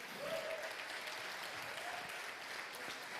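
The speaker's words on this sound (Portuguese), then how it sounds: "Você pode aplaudir o Senhor?" A church congregation claps together during a worship service, a steady wash of applause held at fairly low volume throughout, with no distinct voices standing out.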